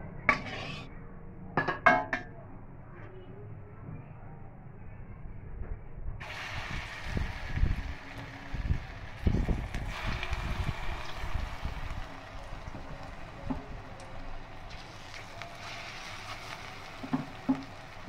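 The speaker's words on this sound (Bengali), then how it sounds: "এবার আমি বড়া ভেজে নেব" Taro stolon fritters (kochur loti bora) frying in hot oil, a steady close hiss and sizzle starting partway through and holding under clinks of a utensil against the pan.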